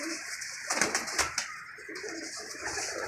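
Pigeons on a rooftop coo softly and steadily at a distance, with a brief flutter of activity partway through.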